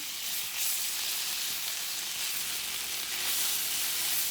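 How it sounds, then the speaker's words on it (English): Beef broth and cream cheese cook down together in a pan, giving off a steady, close, moderate sizzle with a soft bubbling hiss that runs unbroken throughout, with no voices over it. "I'm going to go ahead and put my cream cheese in the mixture and let it start cooking down"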